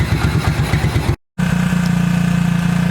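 An abandoned 1998 Suzuki quad runner 4x4 engine runs loud and close with a steady, rapid idle chug. It cuts out for a brief moment, then comes back in a smoother hum.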